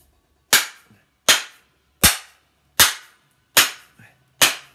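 A small axe head is driven down onto its wooden handle in six sharp, evenly spaced strikes about 0.75 seconds apart, each a loud, close impact cracking out and decaying quickly into silence.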